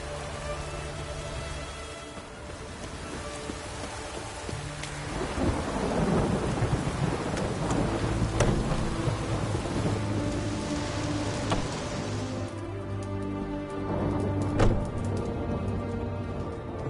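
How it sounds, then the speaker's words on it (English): A Witcher 3 thunderstorm pours steady heavy rain, with rolling thunder swelling through the middle and sharper cracks later, loud and continuous without voices. "A storm, damn it."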